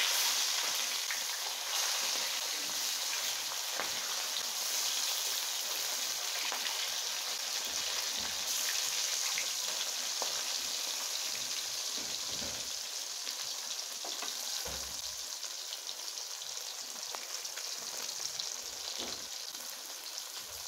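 A piece of chitol fish fries in oil in a pan, producing a loud, continuous hissing sizzle with faint crackles and occasional soft clatters throughout.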